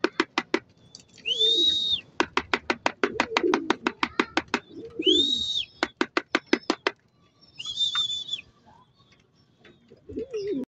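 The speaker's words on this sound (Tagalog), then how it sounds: "ito na yung aking kalapate at patukain na natin" Racing pigeons coo in repeated drawn-out phrases, mixed with rapid rhythmic clapping or flapping bursts between calls, close and clear over a quiet background with no speech.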